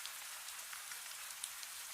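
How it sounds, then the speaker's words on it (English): Gentle, steady rain falls outside a lantern-lit village cafe at night, a soft continuous hiss of drops with a few faint individual patters, heard alone and fairly quiet. "The rain has become gentler now"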